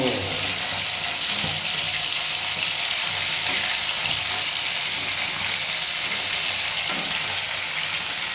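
Steady sizzling of fish frying in a pan, a dense hissing crackle that holds at an even level throughout with faint clatter underneath.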